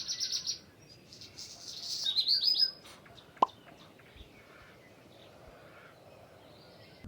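Bird chirps and tweets in short bursts, fairly close, over a quiet background at a van campsite, with a sharp click partway through and stillness afterward.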